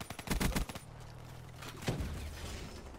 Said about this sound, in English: Who's firing sniper bullets at me?